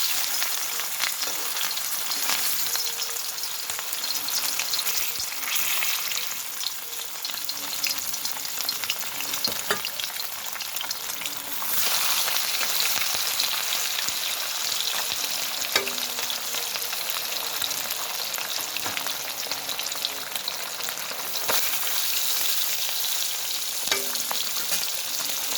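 Rui fish fries in hot oil in a wok, giving a steady, loud sizzle and crackle throughout with occasional stirring clicks and no voices.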